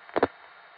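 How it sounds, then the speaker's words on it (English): Two quick mechanical clicks in close succession as a Warwick telephone switch disconnects a trunk line, then faint steady line hiss. "That was the sound of one of the Warwick switches disconnecting the trunk,"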